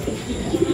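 Racing pigeons coo in a loft, a few low soft murmuring coos rising over a dense close background of bird noise and rustle, with no speech.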